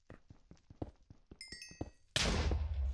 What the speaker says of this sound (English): Someone shot us.